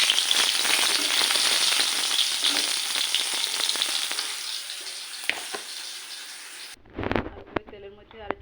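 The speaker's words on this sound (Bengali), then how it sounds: "মাছটা ভেজে নিব।" Tilapia fish frying in hot oil gives a loud, dense, close sizzle that slowly eases. Near the end it breaks off abruptly into a few clinks and a short burst of talk.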